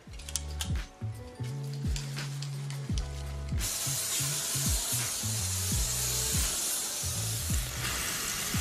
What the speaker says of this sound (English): I always spray all my packages down with Lysol spray.